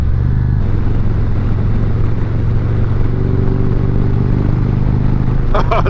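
A Harley motorcycle engine rumbles steadily while riding on a road, a loud, continuous low drone with wind noise, close to the rider and never letting up.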